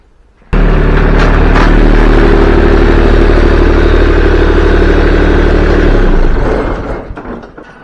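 A compact tractor engine starts suddenly and runs loud and close as the machine drives, a steady clattering mid-pitched drone that holds for several seconds before dropping away near the end.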